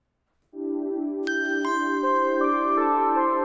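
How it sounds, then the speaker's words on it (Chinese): A music intro opens after a brief silence: a sustained synth pad enters, then bell-like tones and an oboe line layer on top, building a bright, steady chord through to the end. "这是序奏，它是由 pad 跟铃声类的音色还有双簧管构成的。"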